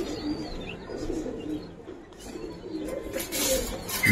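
Giribaz pigeons, a silver variety among them, coo in low, rolling murmurs at close range, with faint chirps and rustling around the loft and a brief noisy burst at the end.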